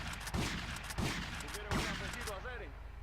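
Gunshots in the video game GTA: Vice City during a rampage, three sharp shots spaced under a second apart, heard amid busy game noise and a voice.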